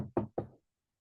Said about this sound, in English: knocked on the door